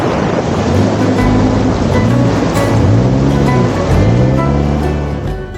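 Loud rushing water at a mountain road water crossing in Pakistan, with a motorcycle engine revving up and down over it and wind buffeting the microphone.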